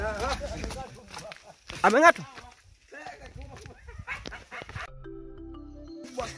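Hadzabe hunting dogs bark and yelp during a hunt, a tight burst of sharp barks midway among louder human voices and bush noise, with people talking throughout.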